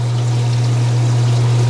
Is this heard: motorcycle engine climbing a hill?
no